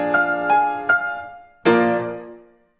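Orchestral chords from an early sketched version of the opening bars of Beethoven's Eroica symphony: three short, loud struck chords in quick succession, a pause, then a fuller sustained chord that rings and slowly fades.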